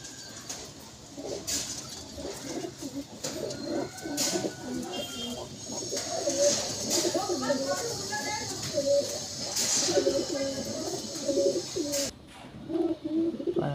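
Madrasi flying pigeons coo repeatedly in a loft, a steady chorus of low rolling calls with some faint chirps and background voices of children and someone speaking.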